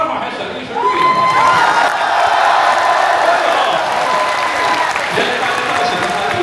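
Audience at an indoor art performance bursts into sustained applause and cheering that swells after a brief lull and holds steady, loud and dense, with scattered shouts across the crowd.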